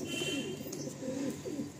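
An Andhra Lalsira Star Kalanka pigeon coos in low, rolling phrases close to the listener, repeating a few times over steady background hiss with no talk.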